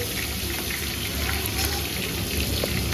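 Garam masala and curry leaves crackle in hot oil, a dense steady sizzle with a popping, rain-like texture, close and loud throughout.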